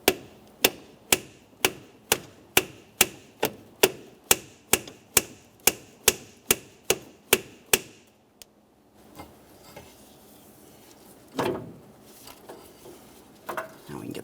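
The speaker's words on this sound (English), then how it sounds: "just use a small hammer with a couple light taps" Light hammer taps on the intermediate steering shaft of a 2004-2008 Ford F-150, a steady run of about fifteen sharp, evenly spaced metallic knocks, close and loud, then a quiet stretch with faint handling noise and one louder clunk.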